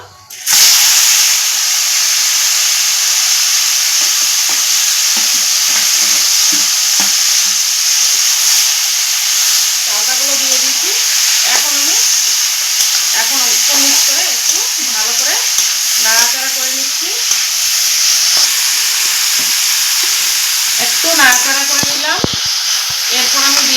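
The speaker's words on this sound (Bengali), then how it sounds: "ভেজে নেওয়া হয়ে গেছে এখন আমি থেতো করা চালতাগুলো দিয়ে দেবো" Crushed chalta (elephant apple) frying in mustard oil in a pan, a steady loud sizzle throughout with intermittent scraping of a spoon stirring, and a voice talking quietly in the background at times.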